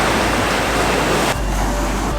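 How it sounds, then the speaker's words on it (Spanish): Ocean waves at Puerto Vallarta roar in a dense, loud, continuous wash close by, dropping slightly in intensity partway through with no voices over it. "Es una delicia siempre caminar junto al mar escuchando el oleaje."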